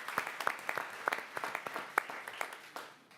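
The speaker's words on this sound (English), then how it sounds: "Give Elmer a round of applause." Audience applause at a school board meeting, a room full of people clapping steadily for about three seconds with sharp individual claps standing out, then trailing off at the end.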